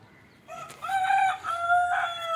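Country chickens crowing and clucking close by at feeding time with bran, a couple of sharp calls rising from quiet yard background.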